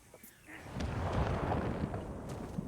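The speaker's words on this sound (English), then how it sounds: "And why are there fireworks going off?" Fireworks going off in the video game God of War Ragnarok: a sustained, rumbling barrage of booms and crackles that swells after a quiet start and stays fairly loud and dense.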